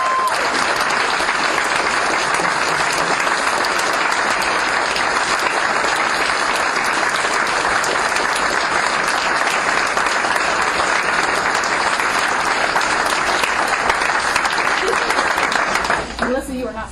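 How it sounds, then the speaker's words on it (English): Sustained audience applause at a promotion ceremony, dense and loud clapping filling the room without a break for about sixteen seconds before tapering at the end. "these are the people that deserve a round of applause."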